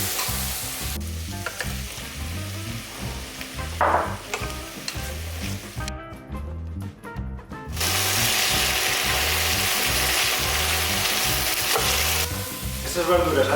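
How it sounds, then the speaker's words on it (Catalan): Tomato added to vegetables frying in a pan for a vegetable broth, a loud close sizzle with regular scraping strokes of a utensil stirring, briefly dipping quieter in the middle before the hiss swells again. "Doncs ara afegim ja el tomàquet i seguim coent."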